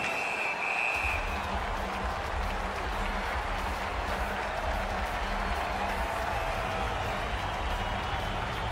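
Arena crowd in the NHL 20 hockey game roaring and clapping steadily, a broad continuous wall of cheering that holds at even loudness from just after the start to the end.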